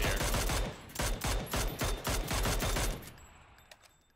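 Gunfire in PUBG, likely a SCAR-L or Mini-14 on Erangel: a rapid burst of about a dozen close, loud shots in quick rhythm for three seconds, then fading echo and quiet.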